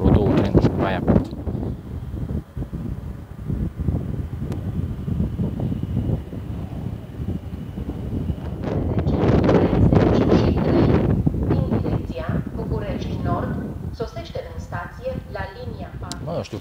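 Wind buffets the microphone at a train station in the Prahova Valley, producing loud, uneven rumbling gusts that swell in the middle. Someone speaks at intervals.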